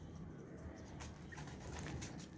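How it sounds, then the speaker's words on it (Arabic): Zubayri pigeons coo softly in a loft, several low, faint coos overlapping in a quiet, continuous murmur with no voices. "هاي الطيور هسه نزلت طبعا"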